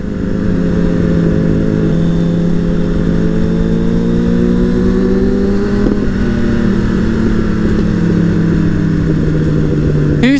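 A Suzuki Bandit motorcycle engine droning loudly and steadily while riding, its pitch slowly rising and falling with throttle changes, close and continuous with no talk.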